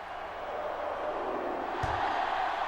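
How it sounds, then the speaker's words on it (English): Stadium crowd murmur in NCAA Football 06 during a pause before the second-half kickoff, a steady wash of distant voices with one brief low thump partway through. "Crowd waiting patiently for the second half to start."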